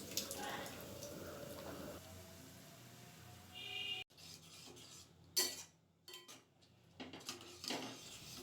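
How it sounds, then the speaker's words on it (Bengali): A spatula scraping and clinking in a pan of spinach and boiled lentil dal, soft scattered stirring sounds with a few louder knocks, faint and close. "দু এক মিনিট পর ঢাকা খুলে আবারও নেড়ে দেব"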